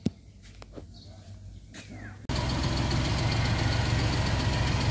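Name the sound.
Suzuki F6A engine starting and idling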